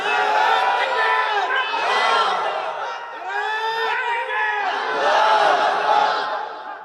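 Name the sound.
crowd shouting takbir (Allahu Akbar)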